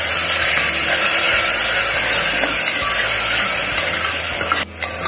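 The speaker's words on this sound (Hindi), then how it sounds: "प्याज को हल्का भून लेंगे।" Garlic and onion paste frying in a pan over a medium flame, a steady broadband hiss and crackle that continues without a break throughout.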